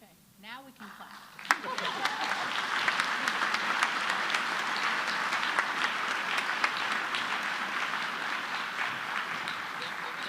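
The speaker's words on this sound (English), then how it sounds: "Okay, now we can clap." An audience at a conference opening session breaks into sustained applause after a brief murmur of voices, the dense clapping continuing evenly to the end.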